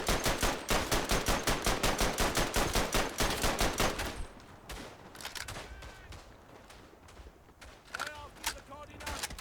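A light machine gun fires rapid, evenly spaced bursts in Verdun, a World War I trench-fighting game, loud and sustained for about four seconds before the firing stops, followed by scattered fainter shots and battle noise.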